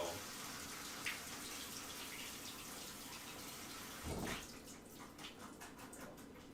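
A kitchen sink tap runs steadily while mushrooms are rinsed under it, a continuous close rushing splash that briefly swells and then thins into lighter trickling and spattering.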